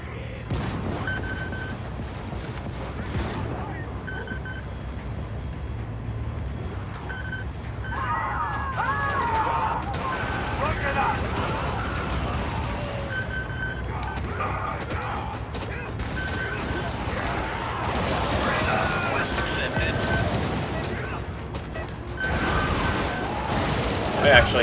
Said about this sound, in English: we should be able to use the cannon in the vehicle to take out the cyborg AA